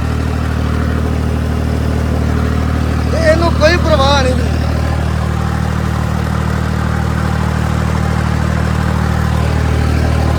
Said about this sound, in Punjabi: ਇਹ ਟਰੈਕਟਰ 1500 ਚੱਕਰ ਤੇ ਧੋਰਿਆ